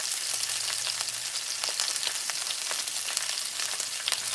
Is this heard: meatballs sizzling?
yes